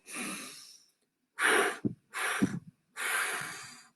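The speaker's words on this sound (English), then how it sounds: "you breathe out 3 times in a puff like this." A person exhales in short, forceful puffs, four separate breathy bursts with silent gaps between them, close and alone without talk.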